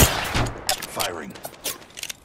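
The Havoc energy rifle fires in the Apex Legends video game, giving a fast, loud run of shots over about two seconds, with a voice speaking over it.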